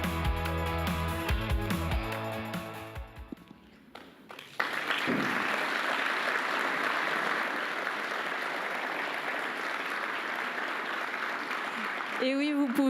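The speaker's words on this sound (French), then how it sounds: "Et oui, vous pouvez l'applaudir." After a few seconds of music fading out, an award ceremony audience breaks into broad sustained applause, a dense even wash of clapping that carries on to the end with a brief louder swell at the close.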